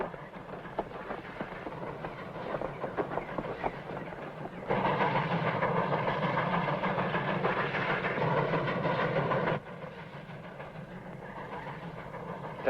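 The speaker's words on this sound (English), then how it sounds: "Smokestack's rolling that train." A steam train rolls along the Kansas Pacific railroad tracks with a steady rumbling clatter. It swells louder through the middle stretch, then drops back, with no voices.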